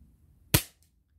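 One sharp, short crack of a Diana P-Five 4.5 mm spring-piston air pistol firing, close by, in an otherwise quiet room.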